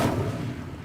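An Incendio fire spell cast in Hogwarts Legacy, a brief deep whooshing burst that fades quickly, loud and close with no talk over it.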